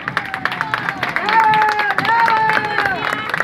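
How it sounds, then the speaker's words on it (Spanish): Audience applause at a school parade in Tres Palos, scattered clapping and crowd noise heard beneath a loud voice talking over it. "¡Fuerte los aplausos para ella!"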